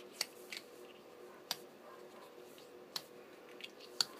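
Scissors cut a flattened plastic straw, giving a few quiet, sharp snips spaced about a second apart over a soft, hushed room background.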